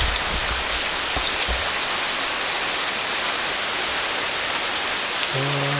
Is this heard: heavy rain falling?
yes